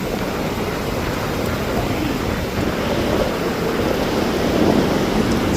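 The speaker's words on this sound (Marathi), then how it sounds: "बघा लाटा पण भरपूर आहेत मोठमोठ्या लाटा आहेत" Large sea waves at Aare beach in Ratnagiri on the Konkan coast roar as a steady, dense wash of surf, loud and continuous, with wind buffeting the microphone and no clear voices.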